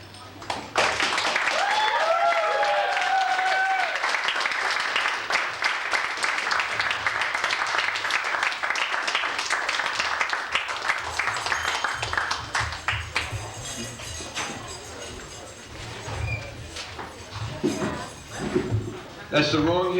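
Audience clapping at a performance, a dense burst of applause with voices over it that thins out later, leaving scattered claps under talk.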